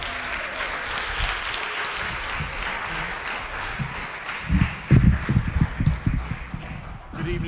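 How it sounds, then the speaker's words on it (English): Audience applause at an evening commemorative event as a school superintendent arrives, steady clapping from a crowd that swells into louder, heavier bursts midway, with voices mixed in. "So let's clap it up as he comes."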